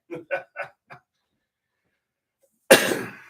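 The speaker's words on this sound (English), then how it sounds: "Did I get a cough right at the last there?" A single harsh cough bursts out after several short soft vocal sounds and a pause of near silence, close to the microphone.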